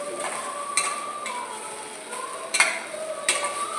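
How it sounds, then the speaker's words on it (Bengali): Soaked rice is stirred in a cooking pot over a soft sizzling bed, with a few louder scrapes and clinks of the spoon against the pot spaced through the stir. "এটাকে একটু নাড়তে হবে।"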